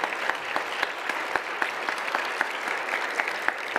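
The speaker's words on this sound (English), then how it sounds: "Everybody give her a round of applause" An audience at an opening ceremony applauds with dense, even clapping that holds steadily throughout, with a few sharper individual claps standing out near the front.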